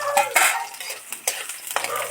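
Garlic and onion sizzle in oil in a pan while a utensil stirs them, giving several short scraping bursts over a steady frying hiss, close and moderately loud, with no talking.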